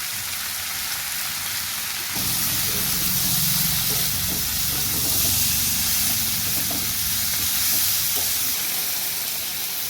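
A curry of dried fish, shrimp and jackfruit seeds is stirred as it fries, a dense, continuous sizzle like heavy rain, with softer stirring noises underneath.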